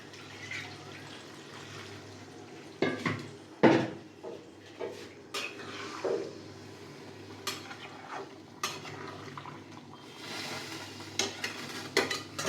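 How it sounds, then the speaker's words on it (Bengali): A small amount of water poured onto fried potatoes in a pan for a vegetarian potato dum sizzles softly, with scattered clinks and scrapes of utensils stirring against the pan, fairly quiet and close. "এবার আমি দিয়ে দিচ্ছি অল্প, খুব বেশি জল লাগবে না, কারণ আলু তো ভাজাই আছে"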